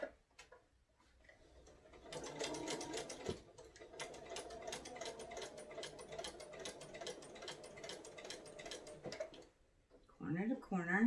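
A sewing machine stitches quilt binding in a steady, fast ticking run of about seven seconds, starting and stopping with brief quiet gaps and a short voice at the end.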